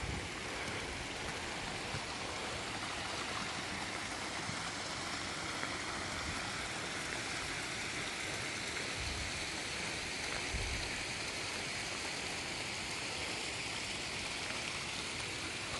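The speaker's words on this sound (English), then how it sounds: "that's the rain kicked in." Steady rain and a rushing mountain stream on Buachaille Etive Beag in the Scottish Highlands, a constant broadband hiss of water with no breaks.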